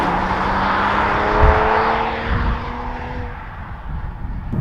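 A 2023 Toyota Supra's engine drones steadily while driving, a low tonal hum with rising whine that fades slightly toward the end, with faint thumps beneath.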